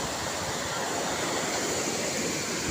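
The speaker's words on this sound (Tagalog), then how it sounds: "Malakas yung daloy dahil kayari ng bagyo kaya malakas ang tubig." A strong river current runs high after a typhoon, making a loud, steady, unbroken rush of churning water with no voices.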